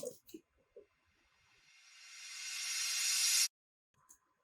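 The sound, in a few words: riser sound effect in music track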